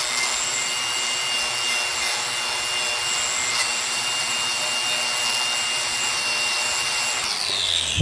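A power tool strips rust from the inside of a car brake drum, making a steady, harsh grinding hiss close by that runs without pause for the whole stretch, with no talking.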